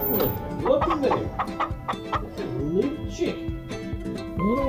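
A chicken clucks and murmurs continuously at close range, its rising and falling calls steady over a few seconds with a voice briefly in the background.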